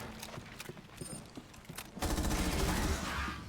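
Tormentor enemies fire in the co-op shooter Rainbow Six Extraction, and their shots come as a volley of quick snapping bursts mixed with mechanical clicks. The fire builds to a louder, denser rattle in the second half.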